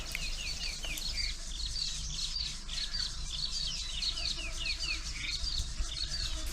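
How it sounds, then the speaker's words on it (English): Grey go-away bird calling at Berg en Dal in Kruger, heat of the day, as repeated short harsh calls over a steady background of other birds chirping and insect buzz, at moderate distance. "This poor little grey go-away bird was really feeling the heat."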